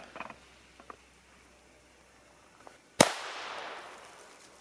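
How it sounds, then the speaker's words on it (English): A Taurus TX22 pistol fires a single Federal 36 grain hollow point round: one sharp, loud crack partway through that rings and decays, preceded by faint clicks and handling noises. "Sweetie's first rounds with the TX22 shooting federal 36 grain hollow points."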